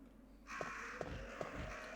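Crows caw in the Resident Evil 1 video game, a harsh raspy cawing that starts partway in and continues over a steady hum, punctuated by regular short clicks.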